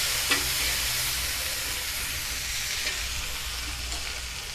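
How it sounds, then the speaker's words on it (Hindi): Pav bhaji mash being mixed in a pan over a low gas flame, a steady broadband fry-and-stir hiss running throughout with a faint scrape near the start, close and alone without talk. "अब उसमें हम 1 चम्मच भाजी डाल देंगे और अच्छे से मिला देंगे।"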